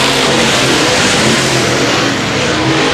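A race car engine at a speedway, loud and continuous with a rough, broadband roar that stays at full level for three seconds, with no voices over it.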